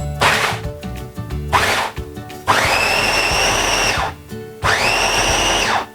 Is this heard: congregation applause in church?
no